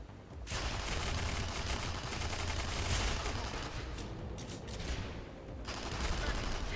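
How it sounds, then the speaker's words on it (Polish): Dense, continuous gunfire and explosions from the video game Tribes Ascend, loud and crackling almost without pause, with brief dips near the end. "rozwaliłem generator jednym strzałem"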